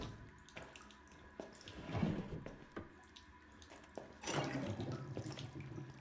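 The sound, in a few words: water sloshing as player reaches in, Resident Evil 7 video game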